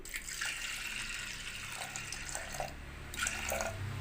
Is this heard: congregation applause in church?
no